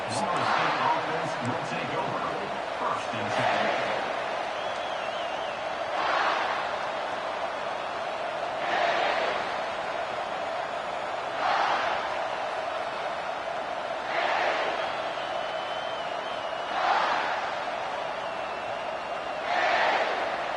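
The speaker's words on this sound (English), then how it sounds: "How about this crowd rattling the rafters and trying to help their defense?" A roaring stadium crowd in the College Football 25 video game swells in steady repeating surges beneath an announcer's ongoing play-by-play commentary.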